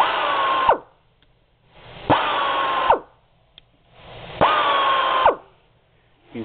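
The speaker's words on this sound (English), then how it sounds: "Today we have a Bosch jigsaw. Just going to show you how it operates real quick." A Bosch pneumatic jigsaw runs in three separate bursts of about a second each, a hissing air-driven whir with a falling pitch as each burst stops, separated by near silence and one small click.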